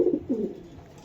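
Racing pigeons coo in two low, throaty bursts close by, then fade into a soft murmur with no one speaking.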